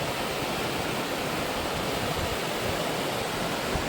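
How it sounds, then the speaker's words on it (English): A rushing river and waterfall fed by melting mountain snow on the John Muir Trail. The roar is steady, loud and close, a constant broadband wash with no voices. "Look at this waterfall. A rushing river."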